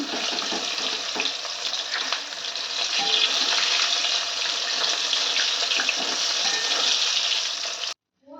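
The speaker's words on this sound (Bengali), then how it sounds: "দেখো মাছ ভাজা একদম হয়ে গেছে।" Fish fries in a pan until reddish, a loud, dense, steady sizzle close by that continues unbroken and then cuts off abruptly just before the end.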